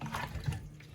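Cold tap water runs over raw ribs in a kitchen sink, a brief close splashing rush with a heavier low gush midway.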